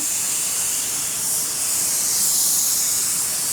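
A paint spray gun at 14 PSI lays a coat of reduced paint on a door panel, making a continuous close airy hiss that holds steady throughout and swells slightly near the end, with no talk.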